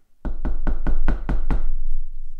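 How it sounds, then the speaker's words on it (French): Six loud, evenly spaced knocks on a wooden door, a storybook sound effect for the wolf at the little pig's straw house, sharp and close with a low resonant thud, fading into quiet. "Le loup frappa d'abord à la porte de la maison en paille."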